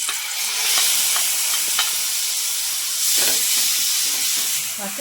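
Capsicum tomato chutney fries with turmeric in a pan, giving a steady close sizzle and hiss with occasional soft clicks of stirring.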